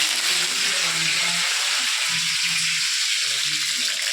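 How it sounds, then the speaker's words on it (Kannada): Mustard seeds sizzle in hot oil in a home kitchen pan, a close, continuous hiss with soft bubbling and light crackle that lasts the whole moment, with no voice over it. "ಸ್ವಲ್ಪ ಸಾಸಿವೆ ಕಾದಿದೆ, ಎಣ್ಣೆಗೆ ಸಾಸಿವೆ ಹಾಕೋಬೇಕು"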